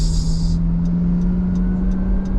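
A truck engine droning loud and steady from inside the cab while overtaking a bus on a road in the Philippines, with a continuous low hum and faint ticking.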